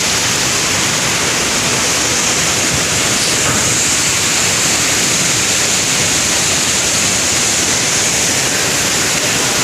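Waterfall at the Marleshwar pilgrimage site roars as a steady, dense rush of falling water, loud and continuous throughout with no pauses.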